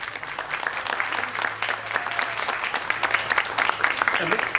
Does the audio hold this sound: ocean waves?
no